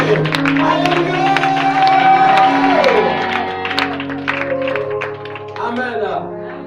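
A church congregation cheers and acclaims for Jesus, a sustained swell of shouts, whoops and clapping that peaks then tapers, with a preacher's amplified voice and loud music carrying over the crowd.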